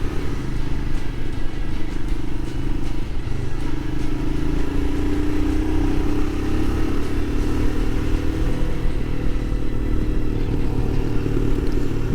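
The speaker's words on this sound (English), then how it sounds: "so I can get better at riding this here motorcycle." Adventure motorcycle ridden along rural roads in Patrick County, Virginia, its engine droning steadily and loud with wind rush throughout and a slight rise in pitch mid-ride.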